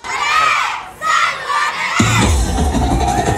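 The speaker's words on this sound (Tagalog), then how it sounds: "Maging ang mga manonood kasing init ng panahon ang naging hiyawan at palakpakan sa kani-kanilang sinusuportahang grupo." Spectators at the Lambayok festival 2023 in Southern Tagalog cheer on dancing groups: loud, continuous crowd shouting and cheering from many voices, swelling again partway through.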